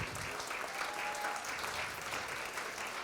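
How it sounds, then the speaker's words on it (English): An audience at a fitness center talk gives a steady round of applause, dense and even throughout, moderately loud and heard alone. "one more round of applause for Mr. Dan Beery"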